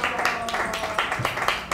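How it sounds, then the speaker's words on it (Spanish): An audience at a book presentation in a Miraflores coffee shop applauds a speaker, a short burst of scattered clapping under a talking voice. "Un fuerte aplauso, por favor,"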